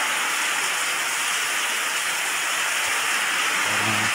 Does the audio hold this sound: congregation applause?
no